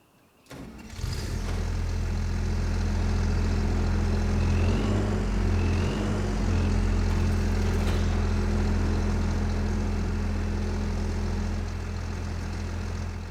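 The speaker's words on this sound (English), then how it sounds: "Okay, we've got a new Holland tractor." A New Holland tractor engine starting in the Farming Simulator 25 game, a short cranking burst followed by a loud, steady low diesel idle with slight rises in pitch, heard alone throughout.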